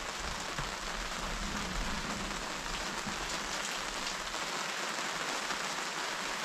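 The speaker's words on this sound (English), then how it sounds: "I can hear it hitting the ground, believe it or not, over all this rain." Heavy rain pours down in a steady, dense hiss, drops pattering on the ground without pause.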